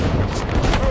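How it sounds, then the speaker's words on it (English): Mortar and rocket fire crashing down on troops during the fight for Hill 875, a loud, dense roar of close blasts filling a brief burst, with voices faintly mixed in. "mortars and rocket fire start coming down on us"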